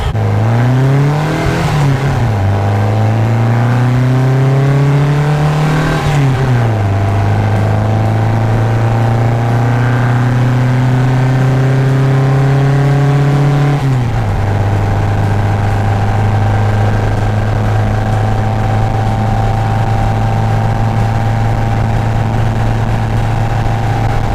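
A 1974 VW Super Beetle with a 2054cc stroker engine driving onto the highway, loud steady engine drone climbing through gear changes, close and continuous.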